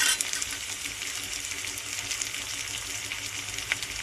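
Curry leaves sizzle in a pan for crab curry, giving a soft, continuous frying hiss heard close but fairly quiet, with no talking over it.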